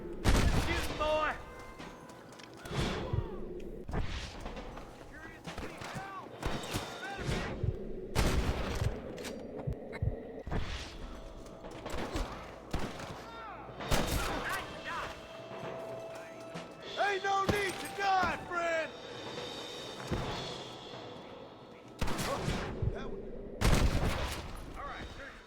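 Repeated loud gunshots and bursts of gunfire in Red Dead Redemption, rifle and pistol cracks arriving in quick irregular volleys with mechanical clicks between, while voices speak in the background.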